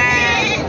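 Bleating from goats at a livestock market in Ardhapur, Nanded, loud and close and heard in one short burst under a busy crowd. Voices of people talk nearby.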